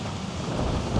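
Gale-force wind buffets a microphone on a Danube riverbank, a dense, loud, continuous rumbling roar with no pauses.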